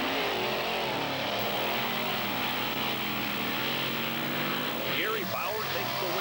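A 10,000-pound monster truck roars off the line on a sand beach racecourse, its engine revving loud and close beneath an excited commentator's voice.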